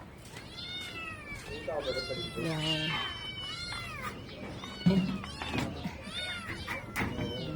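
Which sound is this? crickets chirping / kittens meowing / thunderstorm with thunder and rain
kittens meowing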